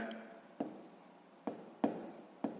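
Pen writing numbers for a sixth-grade math exercise: four crisp taps and short scratches on paper, evenly spaced and close, faint and alone over a quiet room.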